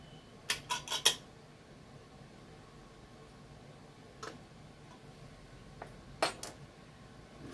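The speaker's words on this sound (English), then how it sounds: "I've got two lids stuck together." Canning jar lids stuck together being pried apart, giving a quick burst of metallic clicks and clinks followed by a few isolated ticks spaced out over quiet background.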